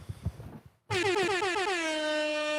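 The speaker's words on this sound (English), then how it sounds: "air horns are a staple of that entire genre of video. I was excited to have the soundboard" A soundboard air horn blasts loudly and continuously for nearly two seconds after a short stretch of faint talk and a brief silence.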